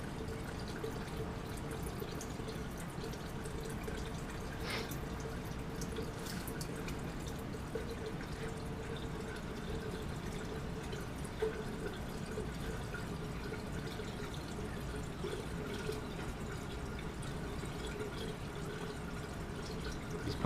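Water drains steadily from a rotary evaporator vacuum pump, a continuous low trickling and gurgling with a few faint drips, unbroken for the full stretch and with no voices.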